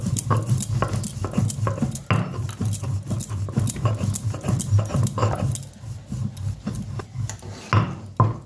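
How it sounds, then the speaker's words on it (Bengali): Dry black cumin seeds ground by hand on a flat village grinding stone (shil), giving repeated close rasping, rubbing strokes in a steady back-and-forth rhythm with no talk. "এই যে আমি শিলে কটা কালো জিরে নিয়ে নিয়েছি, এটা আমি শুকনোই কিন্তু বেটে নেব।"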